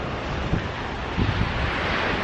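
Ocean waves breaking steadily at a beach south of Redondo Beach, California, a broad continuous wash of surf with wind rumble and two soft swells of crashing water; no talking.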